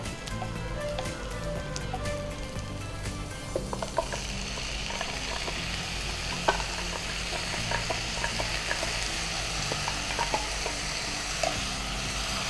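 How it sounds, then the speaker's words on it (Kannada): Ground masala paste frying for chicken pulao, a steady close sizzle with scattered sharp crackles and stirring scrapes running the whole time, no talk. "ಸೊ ಇಷ್ಟು ಫ್ರೈ ಆದ್ಮೇಲೆ ರುಬ್ಬಿದ ಮಸಾಲೆ ಹಾಕೊಳ್ಳೋದು"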